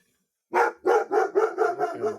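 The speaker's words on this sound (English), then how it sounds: "And there they go, bark, bark, bark." Several dogs barking in a rapid run of about six loud, close barks, one after another with no talk over them.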